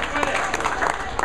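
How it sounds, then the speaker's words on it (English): Raucous crowd from Hemet applauding and cheering a bowler at a bowling match, dense clapping and shouts under a commentator's voice. "Dillon, part of a raucous crowd from Hemet here, still sticking around and cheering him on."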